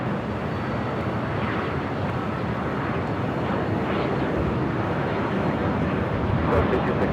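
Airliner taking off from runway 24 at Los Angeles International Airport, a loud steady broadband jet roar that swells slightly toward the end, with faint radio chatter beneath it.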